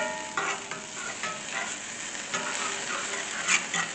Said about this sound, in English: You're going to hear it sizzling.